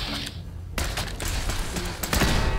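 A turret in Fallout 4 fires, with several bursts of gunfire and thuds in the mix of the game's loud combat noise, the loudest crack landing near the end.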